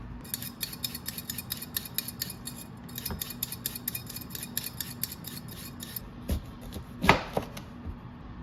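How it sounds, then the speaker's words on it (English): Cabbage and carrots for coleslaw are cut in a quick, regular series of crisp knife strokes, a couple of heavier thuds near the end, close and with no talk. "we're going to get to cutting up these vegetables"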